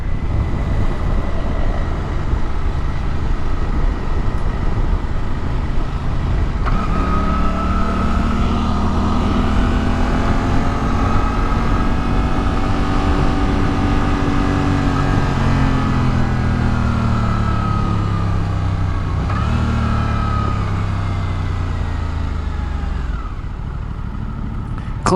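A 2024 Suzuki GSX-8R motorcycle under way, its engine note rising steadily through a gear, then a smooth shift and a drop in revs, with continuous wind and road roar and no talking.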